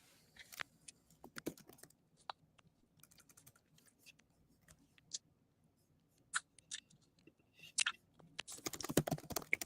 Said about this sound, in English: I was typing a message to you.